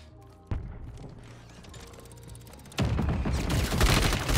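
Gunfire in the Warzone 3 (Modern Warfare 3) video game: a single sharp shot, then after a short lull a sustained loud burst of rapid automatic fire that keeps going to the end.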